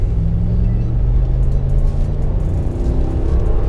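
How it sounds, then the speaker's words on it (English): A new pickup truck accelerating on the road, its engine giving a loud, steady low rumble with cabin and road noise that holds throughout. "I'm not gassing it all the way, but the truck's got a lot of get up and go."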